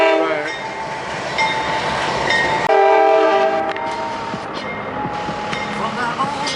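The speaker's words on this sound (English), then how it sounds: "That is the big train here" A big freight train rolls past in Valdosta, Georgia, its horn sounding in sustained tonal blasts over the steady rumble and clatter of the cars, loud and close throughout, with faint voices in the background.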